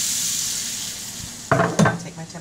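Water poured into a hot pan of sizzling chicken and cabbage stir fry with mushrooms, garlic salt and garlic powder: a steady frying hiss, then a sudden louder burst of bubbling and spattering as the liquid hits, close and without talk.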